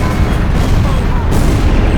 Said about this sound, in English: Enemy facility confirmed destroyed.